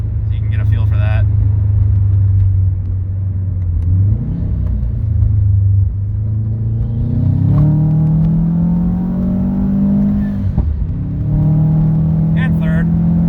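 A turbocharged Subaru Forester with a new engine running on E85 and a stock transmission pulls hard in second gear, the engine note climbing steadily in pitch, loud and close from inside the cabin while someone talks over it.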